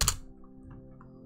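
Typing on a computer keyboard to enter text into a search box, with one sharp close key strike followed by a few faint light taps.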